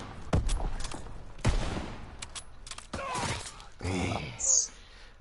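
Several sharp blasts and bursts of gunfire-like bangs from the game Call of Duty: WWII, loud and close, separated by short gaps, with a breathy vocal sound in between.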